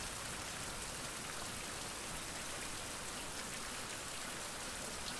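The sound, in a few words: rain falling in survival video game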